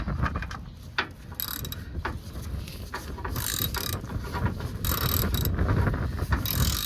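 A socket wrench ratchet tightening a bolt on a 2001 Ford Expedition during a transmission fluid change, giving steady close clicking over a low rumbling background for the whole stretch.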